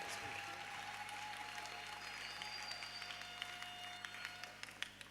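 Parents at a children's Sunday school Christmas party applaud, a soft, distant patter of many hands clapping that grows into sharper individual claps near the end, with faint voices underneath.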